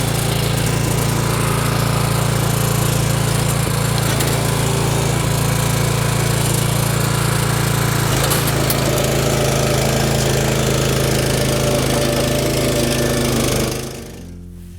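A rotavator engine runs loud and close with a steady rumbling drone while it is throttled up for tilling hard compacted soil, then it cuts off abruptly at the end.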